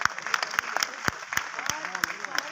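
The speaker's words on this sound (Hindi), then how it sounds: "बहुत सारी तालियां दी।" An audience at a stage drama in a theatre applauds: a run of sharp, scattered hand claps, with a voice talking over them.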